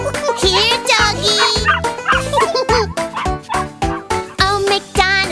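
Cartoon dog barks in a bouncy children's farm song, with repeated yipping woofs, likely voiced, riding over loud, rhythmic music and singing.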